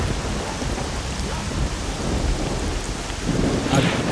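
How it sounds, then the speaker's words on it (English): Thunderstorm in the video game S.T.A.L.K.E.R.: Shadow of Chernobyl: loud heavy rain with deep rumbling thunder rolling underneath, swelling toward the end, no voices. "Oh, the lightning."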